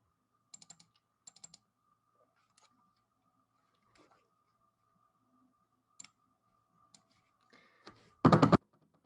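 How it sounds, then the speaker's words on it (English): Someone types on a computer keyboard in short scattered bursts of close, crisp key clicks with pauses between, ending in a brief louder flurry of rapid taps. "Sound of someone typing on their keyboard"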